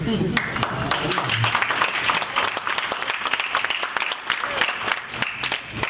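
A crowd applauding steadily, dense overlapping claps that continue throughout at moderate volume.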